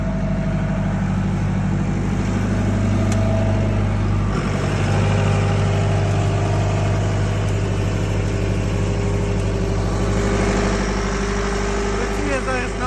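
A Mitsui APW-50 generator runs steadily under load with a constant low engine drone throughout, while a voice talks over it.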